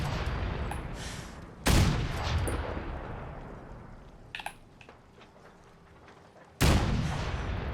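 Sniper rifle fire in Fallout 4, two heavy, booming shots several seconds apart, each with a long decaying tail, plus a faint clatter between them.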